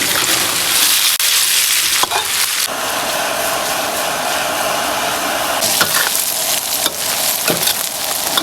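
Shrimp tails hit spiced oil with dried chillies and peppercorns, setting off a loud, continuous sizzle broken by several sharp scrapes of a spatula stirring the pan.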